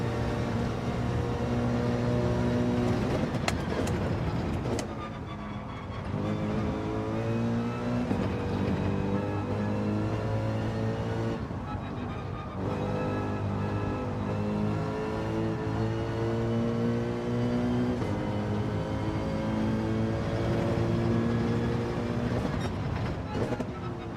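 A Mercedes race car engine in Gran Turismo 7 drones loud and steady, its pitch climbing and then dropping at gear changes, with a couple of sharp transients along the way.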